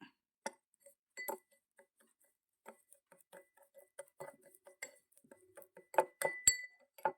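A spoon mixes alum powder into coconut oil in a small bowl, giving scattered light clinks and ticks that are faint and irregular, with brief louder taps near the end and no talking.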